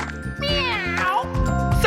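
A voice imitates a cat with one drawn-out, bright, sliding meow, close and loud, in a playful tone.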